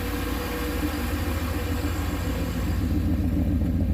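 A turbocharged V8 car engine idles with a deep, steady low rumble, close and constant throughout, with no voices.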